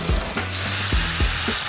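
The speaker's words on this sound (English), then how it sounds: "And the drill." A power drill works on a rusty Porsche body, giving off a steady mechanical whir with rhythmic ratcheting clicks and repeated bursts, loud and close, with no talking.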